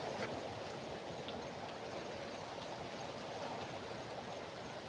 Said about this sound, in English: It sounds like water running.